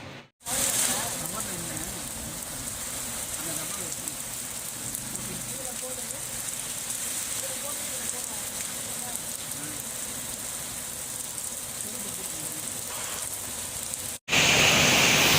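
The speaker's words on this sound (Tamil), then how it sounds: "மழை ஸ்டார்ட் ஆகிடுச்சு" Steady rain pours down on a busy city street in a dense, even hiss, close and continuous, with a brief cut near the end.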